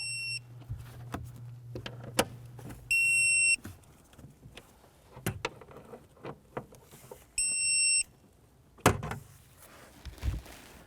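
Strut assembly bolts are torqued down on a 2006-2013 Chevrolet Impala rear strut: scattered sharp metallic clicks and knocks, close by, with two short bursts of steady high electronic beeping in between.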